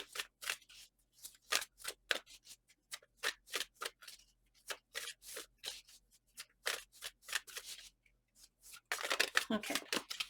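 Tarot cards are shuffled in quick bursts of crisp riffling and slapping, close up, with short pauses between and a louder flurry near the end.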